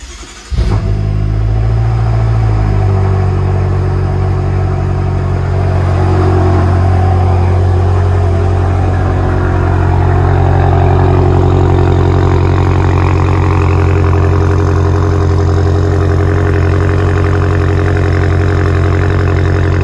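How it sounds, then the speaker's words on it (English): A BMW F10 M5 on stock downpipes cold-starts with a sharp crank and catch, flaring up loudly before settling into a steady, deep, rumbling high idle that continues close and unbroken. "Let's go ahead and do a cold start with the stock downpipes on now"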